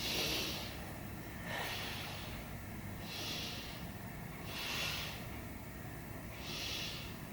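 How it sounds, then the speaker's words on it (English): Slow, deep breathing during a yoga stretching session: several long, airy inhales and exhales repeat at an even pace, close and fairly soft, with no talk. "take 3 big breaths"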